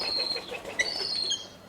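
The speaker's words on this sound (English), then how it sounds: "Hello, pigeon's back." A pigeon flapping its wings at a backyard bird table, with a brief soft flutter close by over steady outdoor background noise, and no talk.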